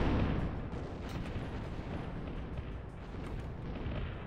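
Napalm rocket fired from a launcher in the Zero-K strategy game, a dense roaring whoosh and rumble that swells at the start and sustains evenly for several seconds, with no talking.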